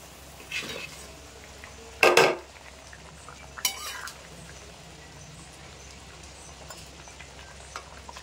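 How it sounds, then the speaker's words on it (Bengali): Fried boal fish pieces go into a pot of boiling curry with a few sharp clattering splashes and utensil knocks, then softer bubbling and scraping over a low steady background hum. "এবার ভেজে রাখা মাছ দিয়ে দেবো।"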